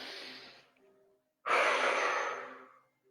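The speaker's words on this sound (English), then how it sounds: "Deep breath in." One slow, deep inhale through the nose, a short pause, then a long, fuller airy breath, close and soft in a quiet room.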